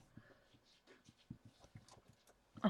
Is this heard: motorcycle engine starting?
no